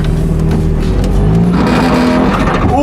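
A drift Miata's engine drones loudly up close, its pitch climbing as it accelerates near the end.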